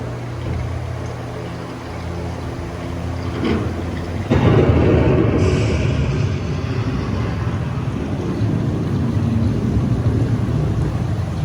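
A theme park ride's thunderstorm effect: rolling thunder rumbles over steady rain, swelling into a louder crash midway before settling back into a continuous stormy roar.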